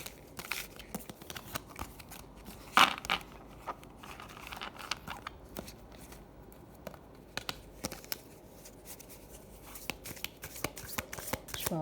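Tarot cards shuffled and drawn by hand, with soft crisp riffles and flicks, one sharper snap early, quiet and close with little else around.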